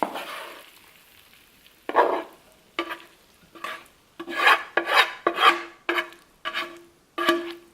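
Ground meat scraped and stirred into an enchilada pasta casserole with noodles and black beans, a series of rough rasping scoops and rubs in a steady rhythm, close and fairly quiet.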